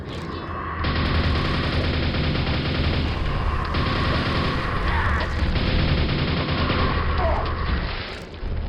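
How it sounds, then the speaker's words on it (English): Gunfire in Quake, a dense, sustained barrage of loud shots and booms rattling on continuously for several seconds, close and heavy, with no talking. "Shots"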